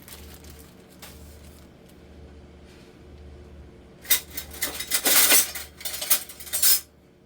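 Dry mixture being spooned into wet banana bread batter in a bowl, heard first as faint scrapes, then as a cluster of louder clinks and taps of a spoon against the bowl.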